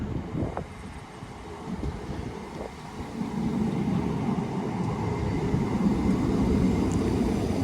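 A Class 319 electric train pulls into Roby station, a low rumble growing gradually louder over outdoor wind noise on the platform.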